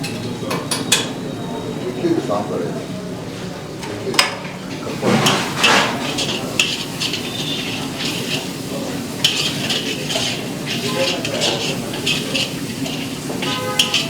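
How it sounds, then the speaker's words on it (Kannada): A coriander rice mixture roasts in oil in a pan with a low sizzle, while a utensil scrapes and knocks against the metal in irregular strokes, close and moderately loud. "ಈಗ ಇದರ ಹಸಿ ಪರಿಮಳ ಹೋಗೋವರೆಗೂ ನಾವು ಇದನ್ನು ಹೀಗೆ ರೋಸ್ಟ್ ಮಾಡಿಕೊಂಡು"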